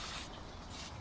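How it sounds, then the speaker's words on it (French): Aerosol spray can of acetone-based foam cleaner fitted to a foam gun, giving a steady close hiss that swells in two bursts over about a second, alone. "nous l'avons relié à une bombe de nettoyant à base d'acétone qui dissout rapidement toutes les traces de mousse"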